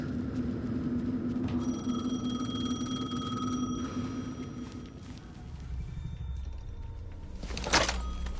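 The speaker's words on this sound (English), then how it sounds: "The phone again." An old telephone rings repeatedly in the video game Alan Wake II, a steady electronic ring over a low droning ambience, followed by a dull thunk and a brief rustling burst near the end.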